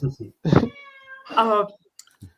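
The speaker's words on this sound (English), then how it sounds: "I'll just deal with the cat." Loud nearby cat meows, two long tonal cries mixed with short bursts of sound, heard close up with brief voice-like noises between them.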